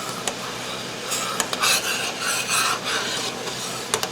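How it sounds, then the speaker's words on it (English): A spoon scrapes and rasps against a pot of black currant jelly at a rolling boil, stirred continuously in close, uneven strokes with brief louder scrapes. "That is a true rolling boil. And you do not stop stirring this"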